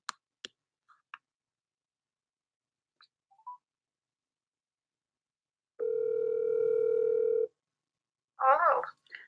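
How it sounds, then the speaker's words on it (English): After a few faint clicks, a single steady ringback tone sounds for about two seconds while a phone call is placed, then a voice briefly answers. "we'll call Madison and see if she picks up"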